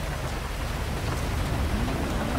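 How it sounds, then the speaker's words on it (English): Steady rainfall in the video game GTA 5, a continuous even wash of drops with no talk over it. "Oh, it's raining. It really started raining."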